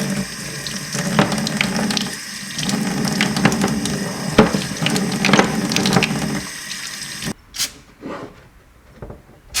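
Brake cleaner sprayed onto the threads of reused bolts during exhaust work on a Nissan Sentra, a long steady hissing spray with faint clicks, then short separate bursts of spray, close and loud.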